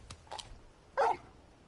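Torgal, the large wolf-dog companion in Final Fantasy XVI, gives a single short bark near the middle, close and clear, with a few faint softer yips or noises before it over quiet game ambience.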